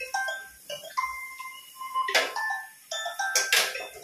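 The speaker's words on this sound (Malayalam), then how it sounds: "അച്ഛന്റെ ഫോൺ അടിക്കുന്നു കേട്ടാ." In a home kitchen where mango pickle is being cooked, a mobile phone rings with a repeating electronic melody of bright tones in short bursts, moderately loud with pauses between phrases.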